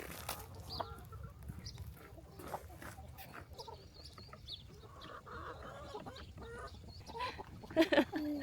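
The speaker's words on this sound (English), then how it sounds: "All right, Sage, we're out here for chicken chores." Chickens cluck and murmur softly in a coop on an Arizona flock of about 150 birds, with scattered rustling, a few sharper calls near the end, and faint voices in the background.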